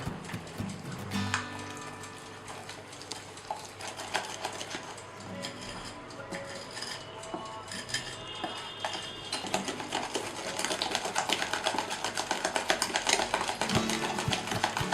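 An electric hand mixer whirs steadily through vanilla tea cake batter with a freshly added egg, a continuous mechanical buzz with rattling beater clatter that grows louder toward the end, no voices present.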